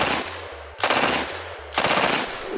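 MAC submachine gun fitted with a LAGE upper fires two short, rapid bursts, each a loud, close rattle of automatic shots that decays into a ringing echo.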